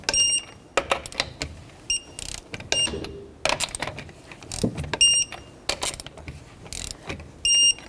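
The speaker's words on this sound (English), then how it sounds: "Tighten your wheel up, just snug it up." A torque wrench and socket tighten the wheel lug nuts on a 2006-2012 Toyota RAV4, giving close, irregular bursts of ratcheting clicks and metallic clatter with short pauses between them.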